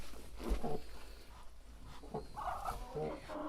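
A hen chases a duck around a backyard poultry yard, with soft clucking and fowl calls coming in short bursts at close range, while a person speaks quietly nearby.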